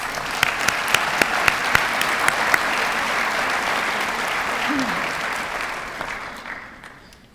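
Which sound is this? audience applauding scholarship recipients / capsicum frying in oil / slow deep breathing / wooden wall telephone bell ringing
audience applauding scholarship recipients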